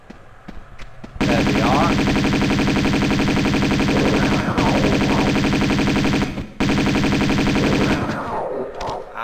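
Sustained Uzi submachine-gun fire in a video game aimed at snow leopards: loud continuous automatic bursts with a brief break in the middle, someone speaking over them.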